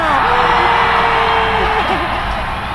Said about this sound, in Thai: ขอเสียงปรบมือให้น้องบอลหน่อยค่ะ